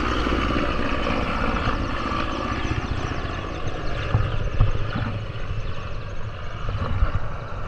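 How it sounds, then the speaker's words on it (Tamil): A helicopter passing over the open sea off Agatti Island, Lakshadweep, heard as a steady broadband rotor and engine drone. It stays constant and moderately loud throughout, with wind-like rumble and no talking. "பாருங்க நடுக்கடல் ஹெலிகாப்டர்."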